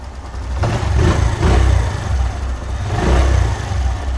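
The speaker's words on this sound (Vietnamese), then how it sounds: "À, máy nổ anh em nha." A 2007 Honda Future Neo FI motorcycle engine running close by, revving up in two or three swells between steady idle stretches, loud and alone.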